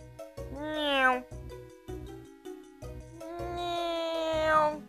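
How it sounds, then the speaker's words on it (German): Cat meowing in the video game Mario & Luigi Superstar Saga, two drawn-out, rising-and-falling meows set over bouncy game music, the second longer and louder than the first. "Miau. Miau. Miau. Miau."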